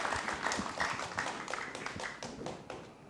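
An audience at a festival welcome ceremony claps for the organiser who brought young Indonesian writers together, a moderate, fairly distant patter of applause that thins out toward the end.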